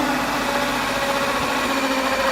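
A 2-inch hole saw on a power drill cutting a hole for a 1.5-inch drain pipe, giving a loud, steady whirring drone that runs unbroken throughout.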